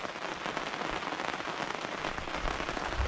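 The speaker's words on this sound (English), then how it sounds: "But we're back again to heavy rain and thunder and lightning within 3/4 of a mile of where I'm sitting." Heavy rain falling steadily outside a Jeep, a dense even hiss of drops on surfaces throughout, with no distinct thunder clap standing out.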